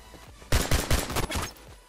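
Rapid automatic gunfire in the Roblox game Phantom Forces, a tight burst of about six loud shots after a short quiet lead-in, fading into faint echoes.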